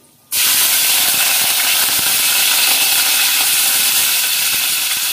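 Green chilies drop into hot oil in a pan for an egg and chili curry, setting off a sudden loud, steady hiss of sizzling that holds strong and continuous without pause.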